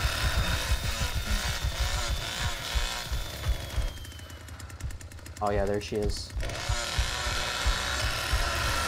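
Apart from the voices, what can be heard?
chainsaw running in Texas Chain Saw Massacre video game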